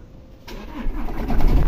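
A Jeep Compass engine cranks and catches with a rattling noise, the starter kicking in abruptly, then a rough rumble that builds in loudness, close up.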